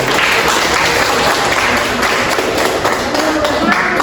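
A classroom audience applauding steadily, dense overlapping claps filling the whole stretch at a loud, even level.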